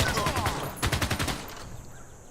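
Machine gun fire in the video game Civilization 6 as a unit attacks barbarians: a rapid, loud rattling burst of shots in the middle of the battle, then fading game ambience.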